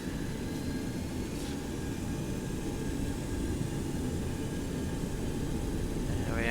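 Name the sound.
Boeing 727 jet engines spooling up in X-Plane 11 video game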